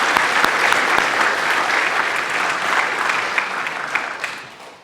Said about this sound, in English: I really want to give Ms. Hardy one for being back in the chapel for a Thursday night.